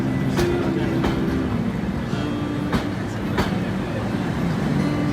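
A train rolls along as an effect in a narrated Hindi story about candidates arriving by rail, with a continuous low rumble and a few periodic sharp wheel clicks recurring every second or so.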